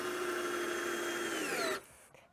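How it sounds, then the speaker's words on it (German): A power screwdriver drives screws into a wooden frame for an outdoor bathroom, whirring steadily and loudly before winding down as it stops near the end. "er schraubt die Schrauben rein"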